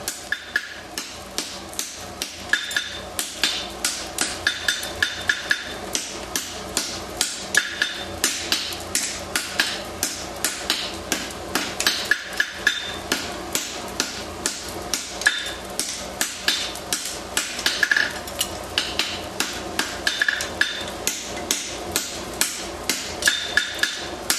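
A hammer strikes a hot steel horseshoe on the anvil at a forge in a long, steady run of sharp metallic blows, close and evenly paced, with no speech.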